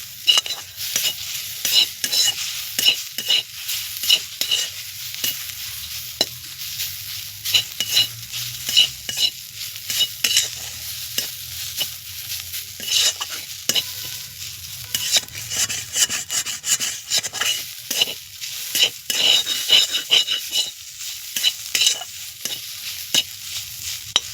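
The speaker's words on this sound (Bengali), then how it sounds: "এইভাবে আবার নাড়তে থাকবে" Bitter gourd curry with a little added water is stirred in a pan, a long run of rapid, irregular scraping and rubbing strokes over a low sizzle, close and fairly loud throughout.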